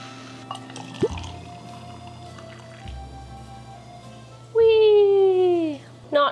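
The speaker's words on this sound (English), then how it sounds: "Froth, the hot milk." A milk frother whirs in hot milk for a pumpkin spice latte, a short loud whine lasting about a second that winds down in pitch. Quiet kitchen sounds and a speaking voice come before it.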